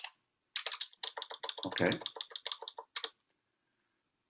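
Rapid typing on a computer keyboard, a close, steady run of crisp key clicks lasting a few seconds before stopping, with a brief spoken word alongside.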